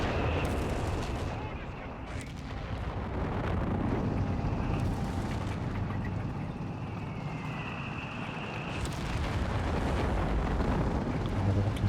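Heavy artillery fire in a 4v4 Company of Heroes 3 battle, with booming shells and crackling gunfire rolling continuously amid tank and vehicle rumble, loud and dense throughout.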